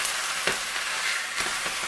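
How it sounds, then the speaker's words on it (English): Frozen ground meat thawing in a hot pan with no added oil gives a steady, bright sizzle, with a few soft scraping stirs breaking it up. "We're just going to thaw it out in the pan."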